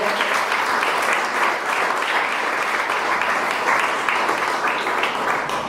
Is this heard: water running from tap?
no